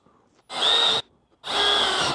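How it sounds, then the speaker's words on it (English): Two short bursts of a power drill boring holes through a template into a 2024 Harley-Davidson King Tour Pak, each about half a second long with a high whine and a brief pause between them. "I'm gonna leave the template on when I drill these holes"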